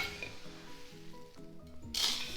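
A clip-top lid on a large Kilner-type glass jar snaps shut with one short, bright clack near the end, after soft clinks and rustling.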